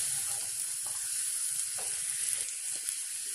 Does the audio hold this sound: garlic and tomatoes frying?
yes